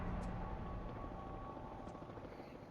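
A helicopter in the video game Alan Wake Remastered, a low, steady rotor drone that fades slightly over a few seconds, with no talk.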